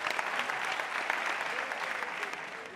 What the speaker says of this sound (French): Moi, je vous applaudis.